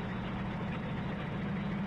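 A tank engine runs in the Codename Panzers video game, a steady low idling rumble with a strong droning hum, even and continuous throughout without any talk.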